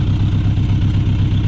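A Honda CR-V engine idles with a repaired exhaust, a steady, loud, close low rumble that holds an even throb throughout with no talking.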